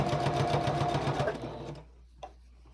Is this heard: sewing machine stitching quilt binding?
yes